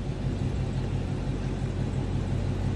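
A car on Continental Extreme Contact Sport 305/35/20 tires on 20x10.5 wheels gives a steady, fairly loud engine and road rumble that holds without a break.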